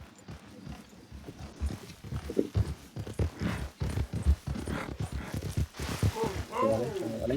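A horse in the video game Red Dead Redemption 2 clip-clops along in a steady run of hoofbeats at moderate volume, with a voice briefly heard near the end.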